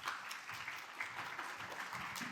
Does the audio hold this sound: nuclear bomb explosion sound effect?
no